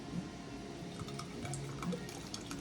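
Hot homemade grape jelly is poured carefully into a glass canning jar, giving soft liquid trickling and faint drips and clinks at a quiet, close level with no talking.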